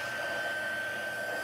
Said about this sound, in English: Hopefully you guys can still hear me over my heat tool.